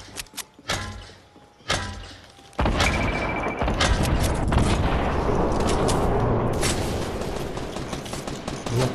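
Gunfire in Fortnite, a few sharp isolated shots early on, then a dense, loud, continuous barrage of rapid fire and impacts filling the rest of the clip, with no talk.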